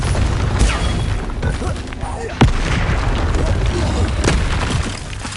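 Bombarda and Confringo explosion spells cast in Hogwarts Legacy, a run of booming blasts and crackling bursts, with one sharp, loud impact standing out midway, all mixed with a voice shouting over the fight.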